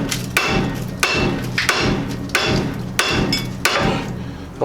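A small hammer strikes a rusted ball joint on a Jeep Cherokee, five or six sharp metallic whacks at a steady rhythm, loud and close, each followed by a brief ringing decay.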